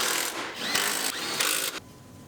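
A power tool drives bolts into a rear support bracket in three short whirring bursts, close and fairly loud, each ending abruptly before a quiet tail.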